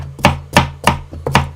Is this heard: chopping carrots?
yes